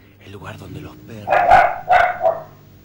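Dogs bark in Funes in a quick cluster of three or four loud, close barks, with softer voice-like sounds just before them.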